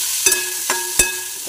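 Chopped onion and small soybean pieces frying in a pan, a steady low sizzle broken by three sharp scraping stirs, close and clear.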